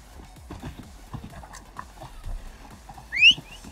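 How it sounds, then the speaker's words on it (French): Horse hooves clip-clop in steady gallop through the Viking-era world of the video game Assassin's Creed Valhalla, a close rhythmic patter with a brief bright whistle-like cue near the end. "À cheval, Eivor. Ouais, mais je veux pas ton cheval pourri"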